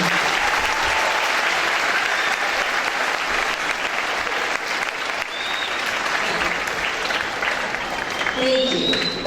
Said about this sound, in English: some people will clap